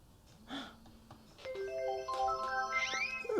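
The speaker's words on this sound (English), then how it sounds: "Is that your phone?" A phone ringtone plays a bright, rising electronic melody of sustained tones, moderately loud and building over a background of low room noise, with a short vocal sound near the start.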